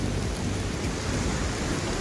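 Heavy rain pours steadily as a dense, unbroken roar with a low rumble beneath it, no voices.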